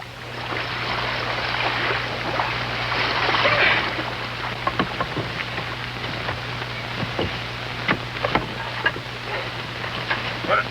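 A canoe being paddled on open water in a western adventure setting, with steady water wash and scattered splashy paddle strokes and drips, the strokes sharper toward the end.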